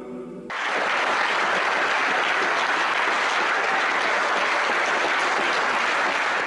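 Loud, dense applause from a concert hall audience for the Patriarchal choir, rising after a brief quieter start and continuing steadily and evenly to the end.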